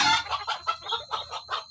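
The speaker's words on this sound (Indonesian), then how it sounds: "ayam saya ini saya lepas liarkan" Free-range village chickens cluck in quick, busy bursts while they feed, close and fairly loud, with a steady high tone running underneath and no voices.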